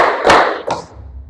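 A crowd of students claps together in a counted exercise, giving two loud, close group claps in quick succession, the first heavier than the second, with a short reverberant tail and no talking.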